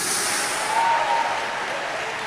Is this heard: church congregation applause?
yes